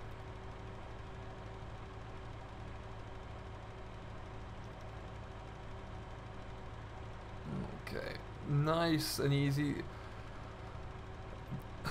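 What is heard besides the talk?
Massey Ferguson tractor engine in the video game Farming Simulator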